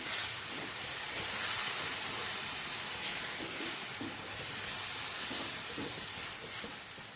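Blended tomato puree sautéing in oil in a pan for egg biryani, a steady close sizzling hiss that holds evenly throughout with no talk.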